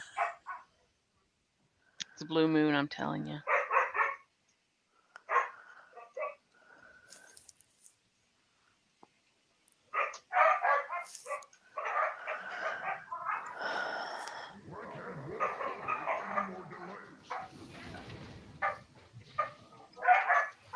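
Dogs bark and yip in short bursts, some clustered and some spread out, near and fairly loud, alternating with a person talking.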